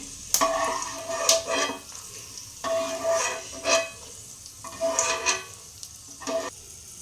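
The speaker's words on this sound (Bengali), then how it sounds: "এই যে ফুটফুট করছে, মানে বাদামটা পুরো ভাজা হয়ে গেছে" Peanuts fry in hot oil with sharp, irregular pops and crackles bursting every second or so over a soft background sizzle, close and fairly loud, with no talking.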